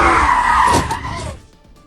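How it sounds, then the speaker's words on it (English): Car driving erratically through a residential neighborhood, tires skidding and squealing loudly with a revving engine, then the sound abruptly fading after about a second and a half. "Some pretty scary video of a car driving erratically in a neighborhood and barely missing a"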